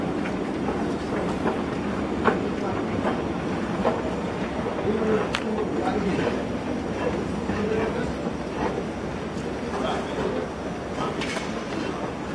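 A metro train in Brescia runs steadily with a continuous low rumble, faint rail clatter and occasional squeaks, heard from inside at moderate level.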